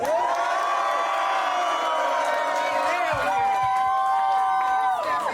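A rap battle crowd roars in support of Obbie West after a call for noise, a loud, sustained wall of shouting and whooping voices that holds steady for several seconds with no single speaker standing out.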